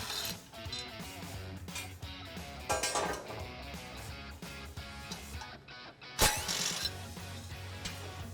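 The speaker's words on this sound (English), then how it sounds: "using 14mm, we need to take these skid plate supports down." A ratchet with a 14mm socket clicks and rattles while removing skid plate supports on a Lexus GX460, with bursts of rapid pawl ticking and metallic clinks of hardware, close and fairly loud, and no talking.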